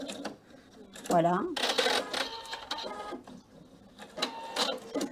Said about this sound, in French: vais pouvoir utiliser la fonction ciseaux à la fin de ma couture, tout simplement pour couper le fil